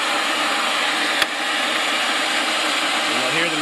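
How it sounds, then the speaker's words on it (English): A powered pipe threading machine cutting threads on steel pipe runs as a steady, loud mechanical drone that slowly winds down, with one sharp click near the start and no voices. "you'll hear the machine start to wind down"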